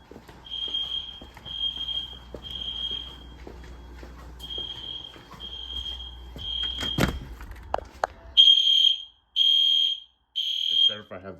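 A fire alarm device sounds during a building system test, emitting a run of loud, regular high-pitched electronic beeps, first in a steady repeating pattern over faint background noise, then three sharper, isolated blasts at the end.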